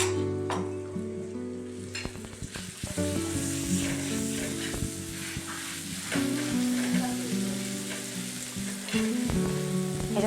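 Onion and ginger-garlic paste fry in a pan with a constant strong sizzle and crackle, broken by occasional stirring scrapes, close and continuous with no talk.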